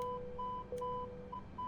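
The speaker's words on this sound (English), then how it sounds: "We've got some beeping going on." Steady electronic cockpit beeps from an Airbus A320neo corporate jet in a flight simulator game repeat in a regular on-off pattern over a low hum, with a brief click partway through; no voices.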